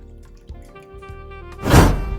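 Milk, 1.5 cups, pours into a mixing bowl for crepe batter. A couple of light knocks come first, then a short, loud splashing pour at close range.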